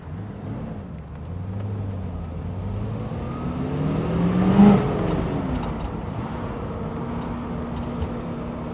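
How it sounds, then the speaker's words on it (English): A 1979 Pontiac Trans Am Macho with a 400 V8 and freed-up exhaust rumbles steadily, its low grumble rising in pitch through a brief rev before settling back to a smooth idle. "Always been a fan of the 400 motor. This one sings a lovely tune. It's got a freed up exhaust system, makes a good little grumble."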